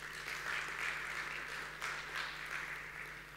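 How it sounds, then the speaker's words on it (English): Audience applause at a startup conference talk in Istanbul, a steady wash of clapping from a crowd that holds for over three seconds with a slight dip midway, moderately loud and with no voices over it. "give me a big round of applause."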